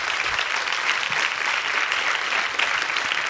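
An audience claps steadily for kindergarten through third grade teachers at a school kickoff gathering, a dense, even wash of applause throughout.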